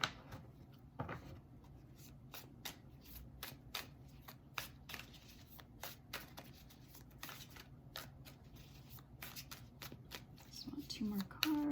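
Tarot cards being shuffled and drawn during a reading, a run of soft, quick papery flicks and slaps repeating through the whole stretch at close range, fairly quiet, with no voice over them.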